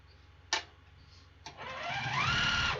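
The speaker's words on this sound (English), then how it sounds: "Okay, so let's top stitch these." A sewing machine top-stitching fabric for a handmade picnic basket: two short clicks, then the motor whirs up into a steady, close, rising run of stitching that continues to the end.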